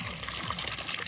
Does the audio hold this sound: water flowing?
yes